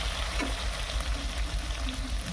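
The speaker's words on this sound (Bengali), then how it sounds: "আমি কড়াইতে তেল গরম করে চিংড়ি মাছটা ভেজে নিলাম।" Shrimp frying in hot oil in a kadai wok: a steady, close hiss and crackle of sizzling oil that goes on without a break, with no talking.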